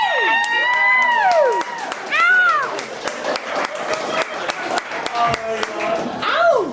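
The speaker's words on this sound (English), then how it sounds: "I want everybody to give a big round of applause" A comedy night crowd at 622 North welcomes a comedian with scattered clapping, loud rising and falling whoops and shouted cheers that come in bursts rather than one steady roar.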